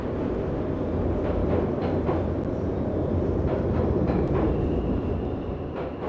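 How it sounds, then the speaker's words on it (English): Train rumble in the video game Pools: a steady, dense roar of rolling rail cars with faint clicks, continuous and fairly loud, heard alone. "Sounds like a train."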